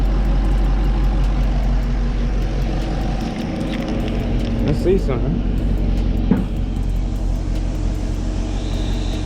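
A 2021 Camaro SS engine with a Rotofab air intake idles with a steady low rumble and a breathy intake hiss as it sucks in air, while a person briefly speaks over it.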